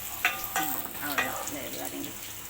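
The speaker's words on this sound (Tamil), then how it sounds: "ஆனியன் நல்லா வதங்கிட்டு" Onions sautéing in a pan, a soft continuous sizzle with a few scraping stirs, quiet and close.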